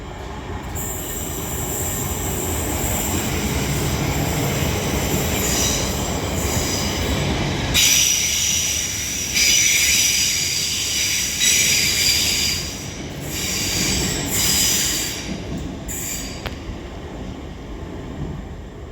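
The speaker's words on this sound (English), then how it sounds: "Now passing through is going to be another train. It is going to be a Transpennine Express Class 802." A TransPennine Express Class 802 train passes through Deansgate station, building into a loud, close roar of wheels with high squeals and metallic screeching, then easing off as it runs on, with no voices.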